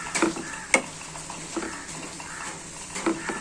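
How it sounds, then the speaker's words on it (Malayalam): A spoon stirring a chili and salt spice mixture in a pan for drumstick-leaf cutlets, with soft scraping strokes and a light sizzle, plus a sharp metallic tap partway through. "നമുക്കിതൊന്ന് ഇളക്കിയെടുക്കാം"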